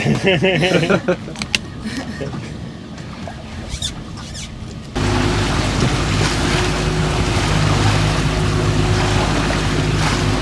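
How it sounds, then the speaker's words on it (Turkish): Waves break against a fishing boat at sea, first as uneven splashes and knocks under wind, then turning to a loud, steady rush of water and wind noise in the second half. "Dalga geliyor."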